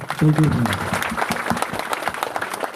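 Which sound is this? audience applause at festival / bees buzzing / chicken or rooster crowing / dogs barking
audience applause at festival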